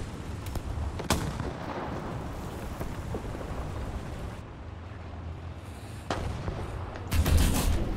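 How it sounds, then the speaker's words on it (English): Tank cannon fire and battle noise in the War Thunder video game, with a sharp shot standing out near the start and heavier blasts rumbling toward the end over a steady, noisy wash of combat ambience. "I shot that barrel."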